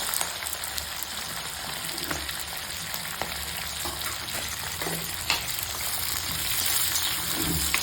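Sliced onions frying in hot oil give a steady, close, crackling sizzle with faint stirring scrapes, growing slightly louder toward the end, with no voices.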